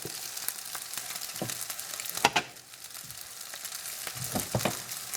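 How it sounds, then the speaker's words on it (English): Cooked sausage sizzling in a screaming hot pan, a steady crackling hiss broken by a few stirring knocks and scrapes, close up with no voices. "And you can still hear it sizzling. It's a screaming hot pan."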